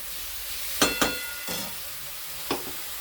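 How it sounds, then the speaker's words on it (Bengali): A ground paste of onion, ginger, garlic, chilli, tomato and sour yogurt fries in a pan under a steady close sizzle, broken by four sharp spatula scrapes and knocks; no voices. "মশলাটা দিয়ে দেবো। একটু ভালো করে কষতে হবে।"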